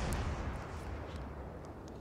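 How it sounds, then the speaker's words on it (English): A warship's armour-piercing salvo in World of Warships booms out as a deep, heavy rumble that slowly fades over two seconds, fairly quiet and with no voices. "Firing AP salvos into this guy now"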